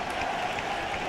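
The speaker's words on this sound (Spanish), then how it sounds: "ante el aplauso emocionado del pueblo congregado aquí en la Plaza de la Revolución José Martí" Crowd applause in the Plaza de la Revolución José Martí forms a dense, continuous roar of distant clapping with no breaks, heard as a short, uniform burst.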